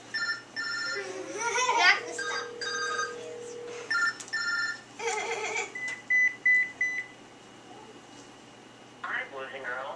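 A cell phone rings repeatedly, its electronic ringtone sounding in short bursts over a steady background hum, with a voice chiming in between some of the rings.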